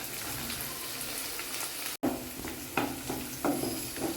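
Chana dal frying with onion and curry leaves in a pan for tindora curry, a close, steady sizzle broken by a short gap, then several distinct spoon-stirring scrapes.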